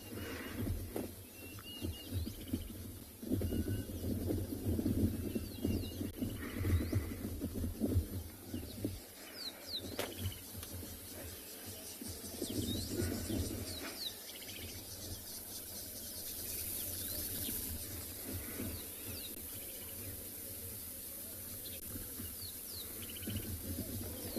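Faint bird calls chirp now and then over a steady outdoor background with insects buzzing throughout, no voices, on a morning safari in South Africa.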